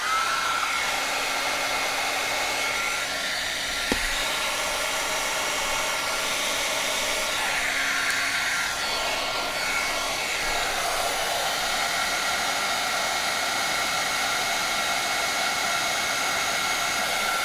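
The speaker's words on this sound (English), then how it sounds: "We get our heat tool." A heat embossing tool blows a steady, loud rush of hot air onto a birthday card, holding an unbroken whooshing drone throughout with a brief click near the start.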